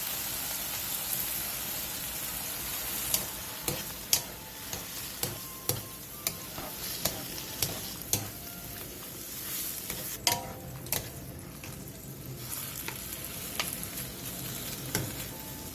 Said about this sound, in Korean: 진간장 반컵, 소주 3분의 1컵, 물 3분의 1컵, 올리고당 3분의 1컵, 다진 마늘 1스푼을 넣고 골고루 뒤적여주세요